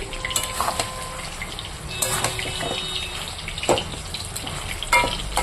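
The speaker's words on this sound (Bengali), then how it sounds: "আগে ভালো করে একটু কষিয়ে নিই" Vegetables and spices sautéed in a kadai, a soft continuous sizzle with scraping stirs and metallic clinks of the spatula against the pan at irregular moments, close and moderately loud.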